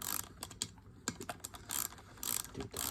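Bolts coated in anti-seize are tightened on a 15hp Yamaha outboard water pump, giving quiet, irregular metallic clicks and ratcheting ticks in quick succession, close up.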